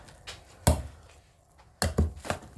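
A few heavy, dull thuds of a masher pressing boiled potatoes into puree in a pot, irregularly spaced, close up, with no talking.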